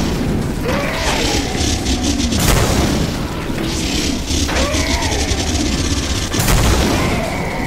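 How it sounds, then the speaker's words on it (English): A cannon in the Killing Floor video game fires in heavy booms, with big blasts at regular intervals over a dense rattle of gunfire and clattering mechanisms, loud and close. "Feel the wrath of my cannon!"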